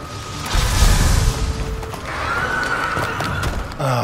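A horse neighs in the video game Monster Hunter World Iceborne, set in the Guiding Lands, with a thin whinny over rumbling game effects and a booming low mix throughout.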